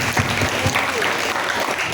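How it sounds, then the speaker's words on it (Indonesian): A religious-lecture audience gives a round of applause for Hanif, full and steady clapping from many people close by, with a faint murmur of voices underneath. "Tepuk tangan lagi untuk Hanif."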